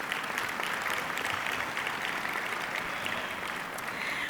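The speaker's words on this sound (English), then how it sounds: "you can clap" Banquet audience clapping for a church minister, a steady, even burst of applause from a medium crowd heard from some distance, with no voices over it.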